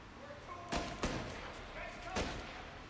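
Gunfire in a Mafia Definitive Edition shootout: three sharp shots ring out at middle distance, spaced unevenly over a low steady background.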